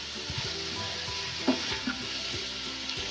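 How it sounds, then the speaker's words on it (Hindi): Ingredients for chicken macaroni frying lightly in a pan give a soft, steady sizzle, with occasional light clinks and stirring knocks close by and no talk. "इसको मैं हल्का हल्का भूनूंगी, ज़्यादा इसको नहीं करना"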